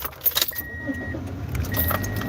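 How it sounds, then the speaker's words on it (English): Car keys jangle close by, then a car's engine is started and settles into a low idle rumble, with a thin whine alongside, in a parking garage before a food delivery shift. "Let's get this car started"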